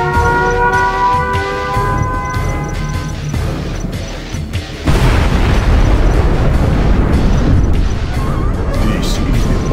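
A nuclear missile strike in Command and Conquer Generals Evolution hits about halfway through as a huge, sudden blast. It follows a stretch of tonal, voice-like sound and then swells into a long, loud, rumbling roar that fills the rest of the clip.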